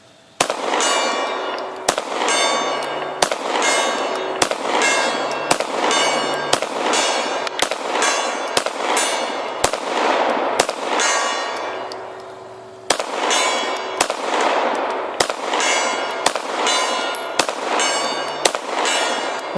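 CZ 75 Compact 9mm pistol firing 115 grain ammo at an outdoor range, sharp shots in a steady rhythm of more than a dozen rounds, with faint distant rings of steel gong hits and a short pause midway.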